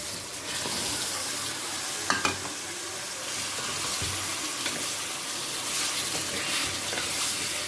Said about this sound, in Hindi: अब चिकन को तब तक फ्राई करूँगी जब तक इसका कलर चेंज ना हो